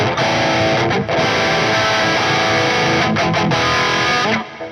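A crunchy, overdriven electric guitar through the Neural DSP SLO 100 plugin plays sustained distorted chords, loud and continuous, with two brief breaks before it fades at the end.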